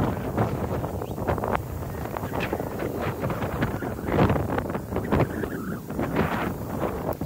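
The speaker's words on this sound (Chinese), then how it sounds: "起风啊，起风啊" Wind gusting outdoors, buffeting the microphone in a steady, rough roar that swells and eases in waves for several seconds, with no voices.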